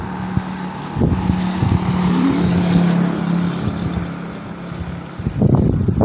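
A motorcycle engine drones steadily for several seconds during stormy southwest monsoon weather, with wind buffeting the microphone and a few thumps toward the end.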